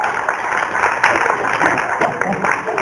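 Audience clapping at a charity talent show, a dense crowd of hands applauding steadily while a voice speaks over it.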